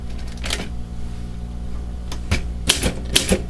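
Keys struck on a ScoutCrafter typewriter, a few separate sharp clacks spaced irregularly, with a brief cluster near the end, close and fairly loud over a low background hum.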